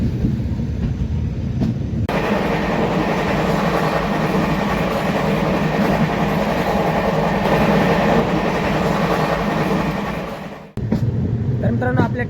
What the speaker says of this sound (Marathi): काचीकुडा भगत की कोठी एक्सप्रेस